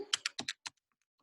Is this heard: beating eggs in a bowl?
no